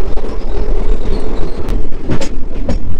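Interior of a moving train between Haridwar and Dehradun, with a loud, constant rumble and rattle and faint rhythmic wheel clatter close by.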